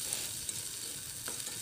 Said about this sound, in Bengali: আমি পেঁয়াজগুলো নেড়ে চেড়ে দিলাম।